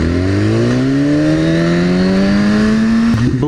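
A McLaren sports car engine revs hard and close, its pitch climbing steadily in one long loud pull before a sharp break and stutter at the end.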